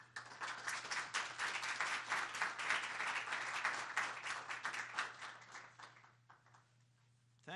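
Sustained audience applause welcoming Chancellor Dannel Malloy at a college policy summit, dense steady clapping from a large crowd for about six seconds before fading out.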